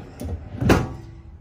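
A wooden drawer in a 2021 Forest River Vibe 25RK travel trailer slides open with a soft rumble and a short knock, heard close in a quiet room.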